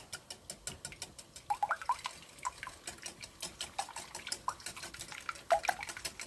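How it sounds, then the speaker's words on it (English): Eggs being whisked quickly into gingerbread dough mixture in a bowl, a steady run of light ticking, clinking whisk strokes against the bowl, close and fairly soft. "Whisk it immediately so that the eggs do not cook."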